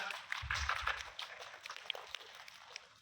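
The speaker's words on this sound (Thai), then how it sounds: "ขอเสียงปรบมือด้วยครับ" Audience applause greeting a guest at a live interview event, a soft, distant patter of many hands clapping that carries on at a low level throughout.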